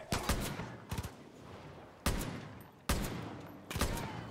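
Gunfire from the video game Far Cry New Dawn comes as sharp, loud bursts, several quick shots together and then single heavy blasts spaced about a second apart.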